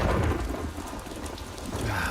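Steady heavy rain pours down with low, rumbling thunder rolling beneath it, loud and continuous throughout, with no voices.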